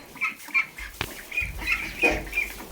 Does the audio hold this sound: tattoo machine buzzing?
no